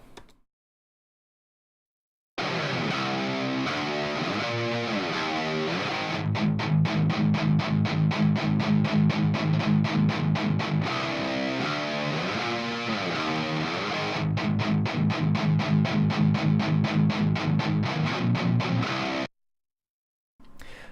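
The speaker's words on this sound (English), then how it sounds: "So here's the sound of the two guitars together." Two distorted electric guitars play together after a brief silence, alternating sustained ringing chords with sections of rapid, evenly pulsing palm-muted chugs, loud and dense, then stopping cleanly.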